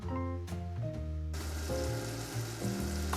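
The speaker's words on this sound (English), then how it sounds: "We're gonna start with sauteing our onion." Onion frying in olive oil in a pan, a crackling sizzle that starts quietly and swells suddenly into a fuller hiss, with low tonal hums running underneath throughout.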